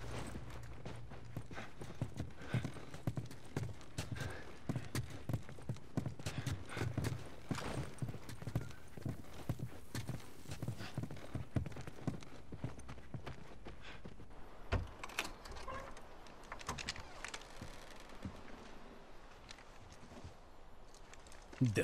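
Horse hooves clip-clop at a steady walking pace in The Last of Us, several horses close by, with occasional voices and a brief shift in the background noise partway through.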